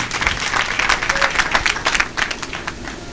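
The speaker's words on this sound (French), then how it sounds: "Applaudissez pour le président Talon et son équipe" A crowd claps for President Talon and his team at a political rally, a moderate burst of scattered applause with distinct individual claps that thins out toward the end.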